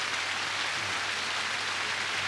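Heavy rain falls on a tent at a riverside campsite, a steady, dense hiss with no breaks and no voices throughout.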